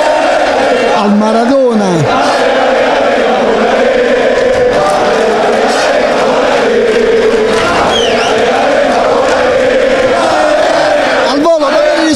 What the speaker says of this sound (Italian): ecco i primi gruppi di tifosi che si stanno portando al San Paolo